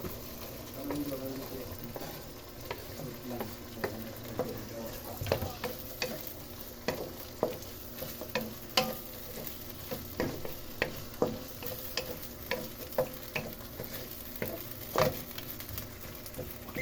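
Corned beef and potatoes fry in a pan while being stirred, with repeated scraping clacks of a utensil over a continuous close sizzle.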